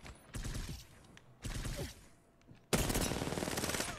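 Gunfire in an Apex Legends gunfight: rapid automatic bursts in short clusters, a brief pause, then a louder sustained rattle of shots near and sharp.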